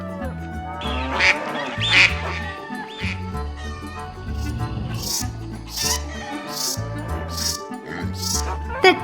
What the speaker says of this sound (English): Females quack to call other ducks to them.